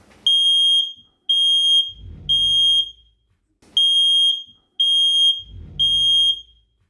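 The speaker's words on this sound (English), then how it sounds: "the smoke detector has stopped ringing" A shrill smoke alarm beeps loudly in repeating groups of three piercing tones, with brief pauses between each set and a low rumble underneath.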